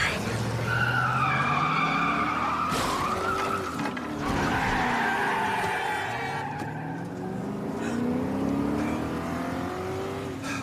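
Car tires skidding and squealing during a film car chase, long loud screeches that rise and fall over a roaring engine, with a brief thump midway and a second drawn-out squeal following.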